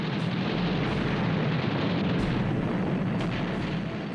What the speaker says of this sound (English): she took a bomb which penetrated 4 decks before exploding